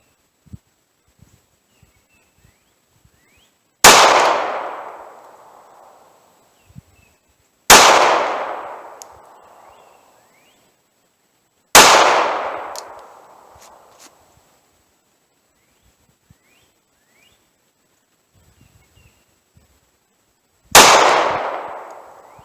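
A .380 Auto pocket pistol fired at long range in a snowy outdoor setting, four sharp loud single shots spaced several seconds apart, each followed by a decaying echo, with faint small handling noises between.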